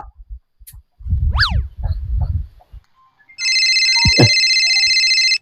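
A telephone ringtone starts abruptly and plays a steady, loud electronic tone pattern for about two seconds, following a burst of short croaking and warbling sounds just before it.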